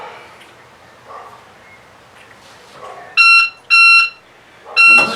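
A classic powerboat's engine start system gives three loud, sustained electronic beeps in a row, each about half a second long, with a quiet background between them.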